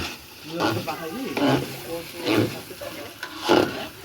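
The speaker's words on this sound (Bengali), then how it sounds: "মিঠু নাড়াচাড়া করছে আর শাওন মাংস দিচ্ছে" Meat fries in a pan while being stirred, producing a steady sizzle with scraping stirs that rise and fall, and voices talk over it.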